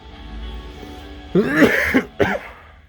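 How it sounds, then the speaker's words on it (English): A person coughs twice nearby, a harsh rough burst followed by a shorter one after a brief pause. "with that last cough"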